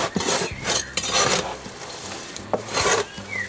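Cocoa peat and perlite potting mix stirred by hand for orchid seedlings: close, dry rasping and rubbing of gritty material in repeated strokes, with no talk.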